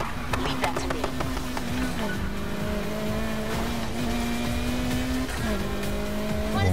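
A Need for Speed car engine holds a steady, droning note under shifting revs, with tire squeal and game sound effects running throughout at a constant, fairly loud level.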